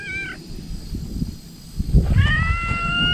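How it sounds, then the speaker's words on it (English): A kitten gives two or three high, thin meows, one short and one drawn out, close by over a low rumbling background. "Oh, that's a kitten."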